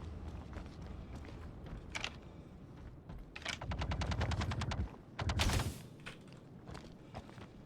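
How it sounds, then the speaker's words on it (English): Video game gunfire aimed at the player: rapid machine-gun bursts at moderate distance, in several separate volleys between quieter stretches, with faint footsteps. "Who the hell's shooting at me?"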